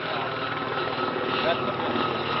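Steady broadband rotor roar of a helicopter guided in to evacuate wounded, continuous and fairly loud throughout, with no clear speech over it.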